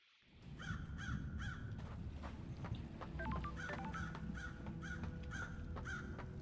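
Crows caw repeatedly in the video game Paradise Killer, several close, harsh calls in quick bursts over a steady low ambient hum, no voices.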